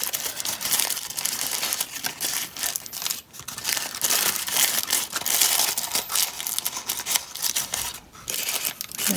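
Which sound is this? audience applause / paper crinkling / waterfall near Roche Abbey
paper crinkling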